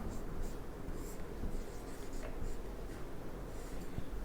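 Chalk or marker writing a sentence on a board during a lesson, a steady scratchy scraping of strokes running continuously throughout at moderate level.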